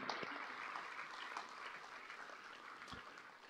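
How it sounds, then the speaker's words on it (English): Audience at a graduation ceremony claps in a steady, dense wash of applause lasting throughout, moderately distant and fairly soft, with no voices on top. "May I request the audience to join me in giving a round of applause"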